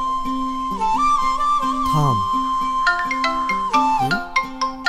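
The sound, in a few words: mobile phone ringtone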